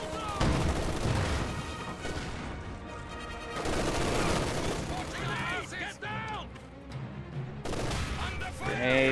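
Video game battle sounds in a competitive match, with sustained machine gun bursts and booming explosions, loud and continuous, while a caster talks over the action.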